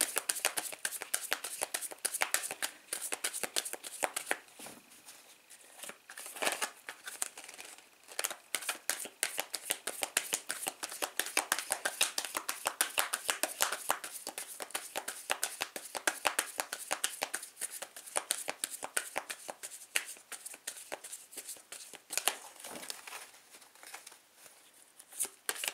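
Tarot cards are shuffled continuously for nearly half a minute, a close, crisp stream of rapid riffles and slaps with no pause and no talking over it.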